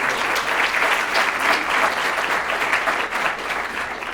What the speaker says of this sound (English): And let's give these folks a round of applause for the amount of work